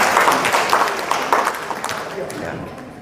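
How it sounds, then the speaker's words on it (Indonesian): Audience applause for long-serving teachers at an Indonesian teachers' organization event, a dense wash of clapping that starts loud and gradually fades over a few seconds, with crowd murmur mixed in. "Tepuk tangan buat semua loh."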